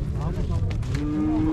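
A cow moos in one sustained, low, drawn-out call at a cattle livestock market in Uzynagash, with crowd noise and faint voices behind it.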